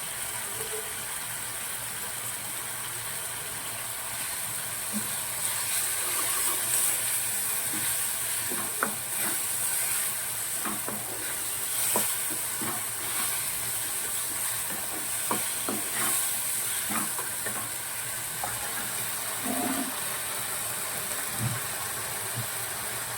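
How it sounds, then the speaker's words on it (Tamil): Onions sauté in a pan for a cashew egg gravy, a moderate continuous sizzle with a low hum underneath and scattered spatula scrapes and taps as they are stirred over about twenty seconds; no talking. "மற்ற வெங்காயம் எல்லாம் சீக்கிரம் வதங்கும்"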